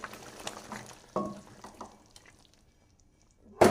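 A spoon stirs a curry with green chillies and garam masala in a pan after the stove is switched off, giving a few soft, scattered scrapes and then one sharp clank at the end.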